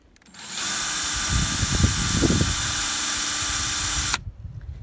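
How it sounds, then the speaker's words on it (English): A drill whirs continuously for about four seconds, its bit chattering and grinding against plastic, then stops abruptly. "a drill bit does not work on plastic"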